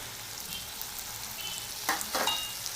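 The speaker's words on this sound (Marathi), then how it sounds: "जोपर्यंत मऊ होत नाही तोपर्यंत एकसारखं हलवून घ्यायचं" Eggplant stirred in a pan for vangyachi bhaji, a steady sizzle underneath with two short scraping stirs near the end, close and alone.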